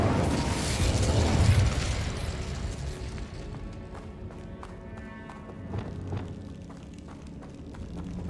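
An Incendio fire spell cast in the Hogwarts Legacy video game, a loud roaring burst of flame that flares over the first couple of seconds and then fades into softer crackling and scattered clicks and taps.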